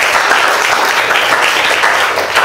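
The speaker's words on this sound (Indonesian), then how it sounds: "tepuk tangan Silvi" A classroom of students gives a teacher-led round of applause for a classmate, dense, fast and loud clapping filling the room without pause.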